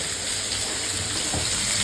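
Pointed gourd slices for Bengali potol bhaja fry in oil, giving a steady close broadband sizzle that holds evenly throughout, with no voices.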